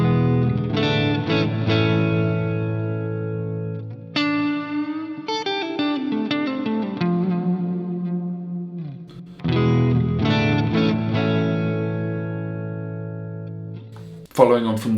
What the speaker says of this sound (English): The next option we've got is hall,